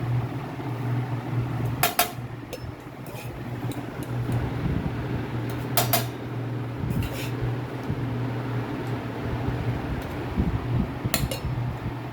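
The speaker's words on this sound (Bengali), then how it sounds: "এই যে গরম গরম ভাত, তাকে বেড়ে নিই" Hot rice is served onto a plate over a steady low hum, with a few sharp clinks and clatters of dishes and utensils spaced several seconds apart.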